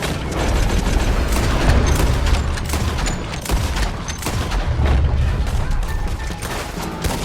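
Gunfire in the video game Red Dead Redemption 2, a dense ongoing battle of repeated shots and cracks, loud and continuous with no pauses.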